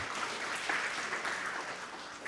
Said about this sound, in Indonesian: Yang setuju berikan tepuk tangan meriah buat Tuhan kita.